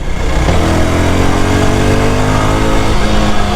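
A Yezdi Scrambler motorcycle accelerates through city traffic, its engine loud and close with a steady rising drone and no voices over it.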